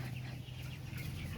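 Chickens cluck in a poultry house with blowers running, soft scattered calls over a constant low mechanical hum.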